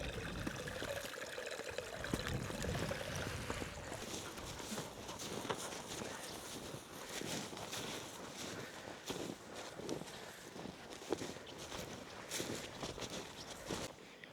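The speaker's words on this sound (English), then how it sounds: "You can hear the water underneath this ice." Water trickling and gurgling beneath thin ice on a frozen bog, a faint, uneven dribbling with soft crunching steps and rustling close by.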